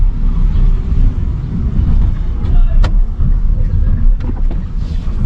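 Car cruising in second gear at about 2,000 RPM on a narrow, slightly uphill road, a loud steady engine drone and road rumble with wind buffeting and a few faint knocks and rattles.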